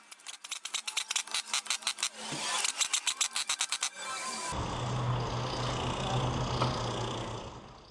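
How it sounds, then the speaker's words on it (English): A brake lathe resurfaces a Kia Sorento brake rotor in a shop, starting with rapid rhythmic scraping pulses for about four seconds, then settling into a steady loud grinding whir with a low hum underneath. "the one rotor is getting resurfaced"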